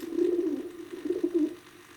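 A pigeon coos in a low, soft, repeated warble, two short bursts close by, with quiet room hiss behind and no talking.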